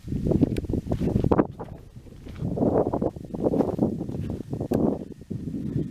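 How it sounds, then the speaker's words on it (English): Wind buffets the microphone in heavy, low gusts that surge and ease repeatedly, loud and close, with no other clear sounds. "It's windy and I'm trying to make a video."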